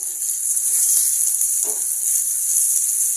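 Curry leaves and peanuts fry in a pan with a steady loud hiss and sizzle, close up, with a few faint stirring scrapes and no talking.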